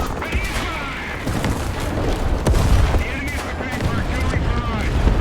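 In War Thunder, a British Excelsior tank's cannon fires solid shot, with heavy booming blasts and sharp cracks over a rumbling engine while someone talks throughout.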